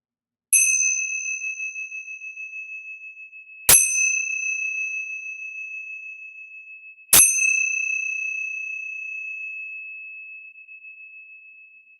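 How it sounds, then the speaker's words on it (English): A meditation bell is struck three times, each clear bright tone ringing out and slowly fading into quiet, spaced a few seconds apart, close and alone. "preparing to open your eyes as I ring the bell"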